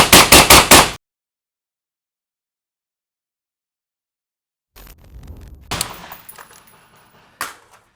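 A suppressed rifle fires Mk 262 ammunition through a SureFire suppressor: five rapid, sharp reports in quick succession, then silence, then a stretch of scattered clatter and rustling with one louder knock near the end.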